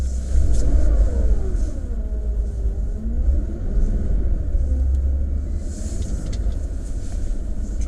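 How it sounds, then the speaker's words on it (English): A Porsche 997 C4S spinning on snow, its engine revving and surging repeatedly, close and loud with a deep rumble rising and falling as the car slides around, no talk heard. "What I'm going to do now is try and do some spinning."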